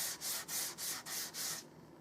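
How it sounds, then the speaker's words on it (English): Hand sanding on a wooden rifle stock for a Stevens Springfield: six steady back-and-forth strokes of abrasive paper rasping over wood, close and even in rhythm, then stopping. "I sand all over in the meantime"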